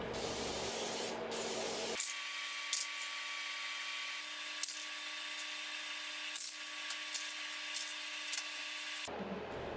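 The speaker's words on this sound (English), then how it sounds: "I came back and used some lacquer. I applied two light coats" Steady hiss of a spray gun misting light lacquer coats onto a nightstand during a furniture refinishing job, running continuously for several seconds with faint clicks and no talk.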